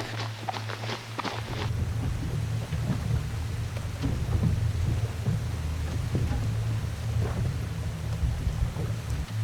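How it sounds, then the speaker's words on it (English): Rain pours and thunder rumbles during an outdoor race, a steady wash of rain with deep low rumbling throughout and a few sharp clicks early on. "The weather shifts, it's getting colder, and it starts to rain."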